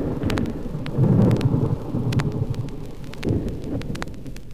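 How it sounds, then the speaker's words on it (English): Deep rumbling thunder rolls through a Grand Canyon storm over steady rain, with sharp drip-like ticks scattered on top, loud and close. "They badly wanted the sound of a storm in the canyon"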